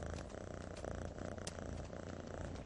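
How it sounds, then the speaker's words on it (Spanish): A lynx purrs in a steady, continuous low rumble, close and even throughout with no voices. "Está ronroneando, Sabu."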